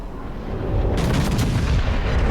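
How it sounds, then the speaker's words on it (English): Stern guns of a warship firing in World of Warships, a heavy booming salvo that breaks over a low rumbling background and keeps rolling. "the 3 Citadel shots coming off the back end, off the stern guns"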